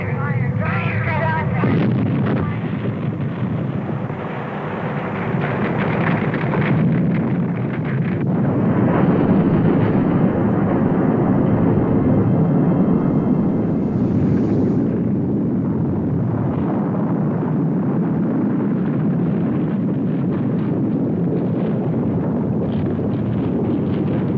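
A volcanic eruption in a prehistoric-women science-fiction film makes a continuous, heavy rumbling roar with a windy, blustering texture, loud and sustained throughout with small surges but no clear breaks.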